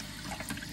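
Tap water runs steadily into a bathroom sink while mosquito larvae are rinsed under it, a continuous close splashing flow with no voices.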